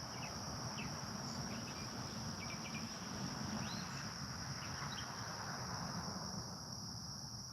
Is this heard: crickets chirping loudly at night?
yes